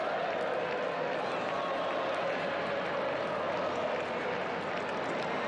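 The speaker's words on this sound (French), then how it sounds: "ce sont des chants de supporters de football" Huge crowd in St Peter's Square at the Vatican chanting olé like football supporters, a dense steady roar that fills the whole stretch without a break.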